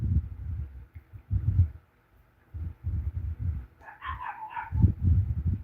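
Dogs barking in a home, a series of low, muffled woofs coming in bursts with short pauses, moderately close, with a brief higher whine or yip partway through.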